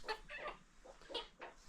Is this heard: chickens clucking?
yes